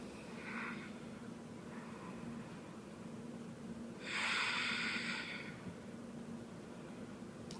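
Slow, audible breaths during a quiet yoga relaxation, with a soft sigh-like exhale standing out against a low steady room hum.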